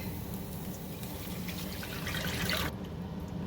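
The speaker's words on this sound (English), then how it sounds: "Then we'll go ahead and add our broth." Broth pours into a soup pot for a keto broccoli cheddar soup, a steady close liquid rush and splash lasting a few seconds before stopping abruptly, with a low hum underneath.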